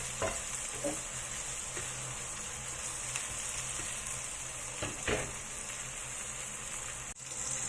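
Garlic and ginger frying in a pan until brown, a steady close hiss of sizzling oil broken by a few scraping stirs of a utensil, with no voices.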